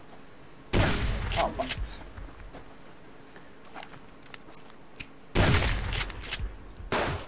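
Two heavy shotgun blasts from the video game Subsistence boom out several seconds apart, each loud with a short rumbling tail, with quieter game ambience and scattered voices between them.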